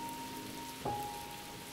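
Steady rain falls outdoors on a surface, a constant soft hiss with a brief louder patter partway through and a faint steady tone running underneath.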